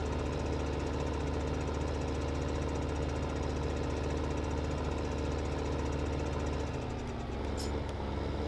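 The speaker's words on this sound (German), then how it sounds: "So können wir also erreichen, dass der Schlepper hier ganz dezent oder homogen beschleunigt und nicht gleich auf Vollgas geht." Tractor engine in the Farming Simulator 15 game running steadily with a rough, knocking drone that holds constant throughout and shifts slightly in pitch near the end as it picks up speed.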